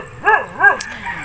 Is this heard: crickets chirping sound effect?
no